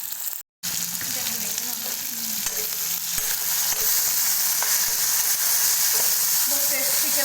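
Potatoes frying in oil in a hostel kitchen, a steady loud sizzle and crackle that runs throughout with only a momentary break near the start, with faint stirring under it.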